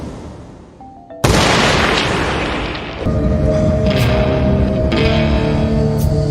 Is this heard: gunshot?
yes